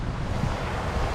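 Steady rushing water from the fountain at the World War II Memorial in Washington D.C., a continuous broadband wash that stays even and close throughout, with no voices.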